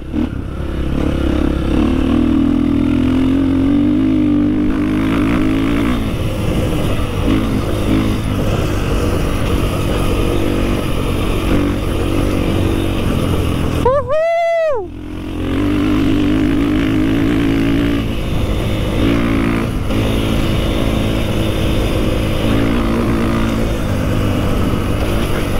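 A 500cc enduro motorcycle fitted with an Akrapovic exhaust is ridden on a dirt track, its engine droning steadily and loudly close to the microphone throughout, with the note shifting under load and one brief dip midway.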